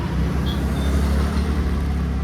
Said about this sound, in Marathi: ट्रॅफिक पण रोडला बरंच आहे.